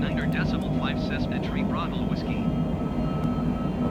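Cessna aircraft engine climbing after takeoff in a flight simulator game, a steady loud drone held throughout as someone speaks radio calls over it.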